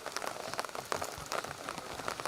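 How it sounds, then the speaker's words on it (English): Rain falling at an asphalt rally stage, a steady close patter of drops hitting surfaces with irregular taps, constant and moderately loud. "You can hear the rain coming down now."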